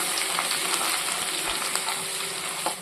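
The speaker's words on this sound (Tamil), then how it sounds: "பூண்டு சேர்த்து எண்ணெயில நல்லா வதக்கிக்குவோம்" Garlic sizzles steadily in hot oil, a close, continuous crackling fry with faint clinks of stirring and no voices.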